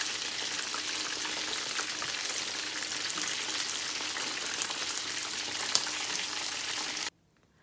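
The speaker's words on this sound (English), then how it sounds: "After frying, I take it out from the hot oil" Thai fried chicken frying in hot oil, a steady close crackling sizzle with dense popping that holds evenly for about seven seconds, then cuts off abruptly into near silence.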